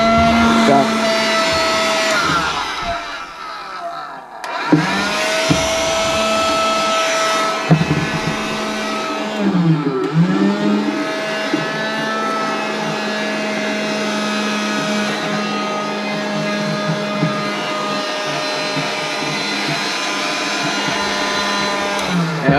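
A vacuum cleaner sucking up polystyrene bits roars steadily at close range for the whole stretch, with a brief dip and restart early on and a rising whine partway through.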